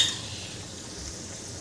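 Mixed dal vadas, a Vidarbha-style fried snack, crisping in hot oil in a pan, giving a steady close hiss of sizzling with no talk over it.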